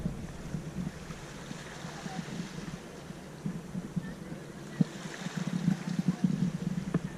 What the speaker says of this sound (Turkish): Su sesini dinleyin.